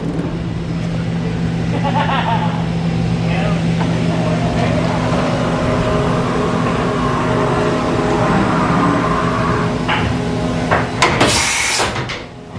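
A Dura vertical mill spindle runs up to its maximum of about 10,000 RPM, humming steadily with a sustained tone, while people talk nearby and a few sharp bangs come near the end.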